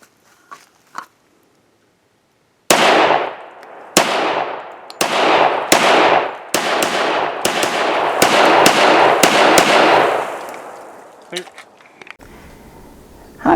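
A Heckler & Koch Mark 23 pistol firing outdoors, about a dozen sharp, loud reports in an uneven sequence that speeds up toward the middle, preceded by a few faint clicks and followed by a quiet tail.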